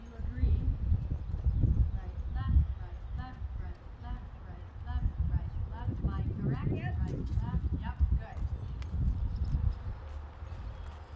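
Horse trotting during a riding lesson, hooves clip-clopping in a rhythmic beat beneath near-continuous talking from an instructor.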